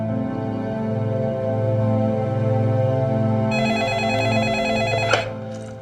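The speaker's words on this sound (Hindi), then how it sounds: "किसे फोन लगा रही है" A telephone rings in an office with a steady tonal warble, continuous and fairly loud, ending in a brief click.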